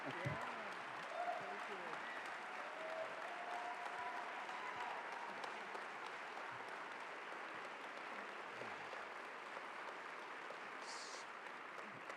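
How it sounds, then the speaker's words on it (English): Sustained crowd applause at a university convocation, a steady even wash of many hands clapping at moderate distance, holding level throughout without talk over it. "Well, thank you for the applause."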